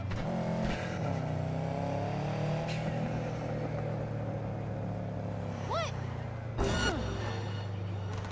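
A car driven in the Cyberpunk video game, its engine droning steadily with shifting revs and a few brief sharp swoops near the end, no talk over it.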